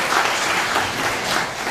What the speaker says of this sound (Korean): 지금까지 수고해 주신 임소라 시인께 큰 박수 부탁드리겠습니다.